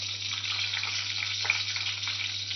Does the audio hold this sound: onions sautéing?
yes